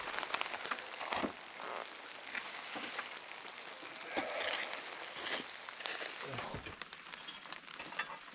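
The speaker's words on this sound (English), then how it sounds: "Woke up to some rain this morning, pretty heavy rain too." Heavy rain pattering steadily on a campsite in the Newfoundland and Labrador wilderness, a dense close hiss of drops striking surfaces with a few louder irregular knocks and splats throughout.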